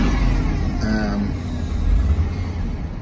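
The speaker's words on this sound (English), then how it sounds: "2006 Chevy van, runs good." A 2006 Chevy van engine idles with a low, steady rumble, holding a continuous drone close by with no talk over it.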